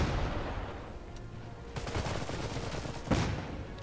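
Bursts of gunfire in the video game Iron Harvest: scattered sharp cracks and rattling volleys over a rumbling battle background, with a louder shot near the end, no speech.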